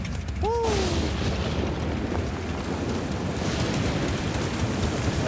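Steady rain falling, a continuous loud hiss with a deep rumble underneath, over a brief swooping whistle-like tone near the start.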